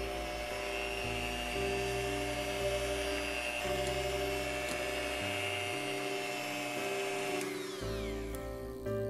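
An electric hand mixer whips whole-egg genoise batter at low speed for a strawberry cream cake, giving a steady, close motor whine with a slight shift in pitch partway through and no talking.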